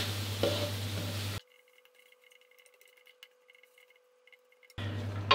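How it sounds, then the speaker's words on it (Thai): Fermented fish paste (pla ra) and spices stir-fried in a pan give a steady sizzle with scraping, which cuts out to near silence and a faint hum before the sizzling returns. "ผัดคั่วต่อครับผัดนี้ผัดให้ปลาร้าแล้วก็เครื่องเข้ากันดีนะครับ"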